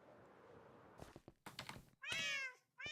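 A cat meows loudly and up close in short, bright calls after a few soft thumps and rustles.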